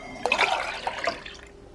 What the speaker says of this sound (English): I'm gonna put a cup of water